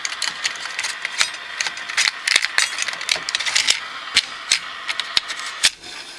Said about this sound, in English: I just eject, put a tape in, goes in that way like that.